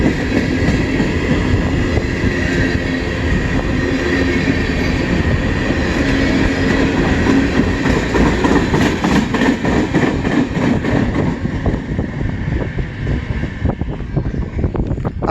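A CN freight train passing during a meet of eastbound and westbound trains in Emmett, Michigan, a loud, steady rumble of rolling cars with wheel clatter and faint squeal, close and continuous with no talk.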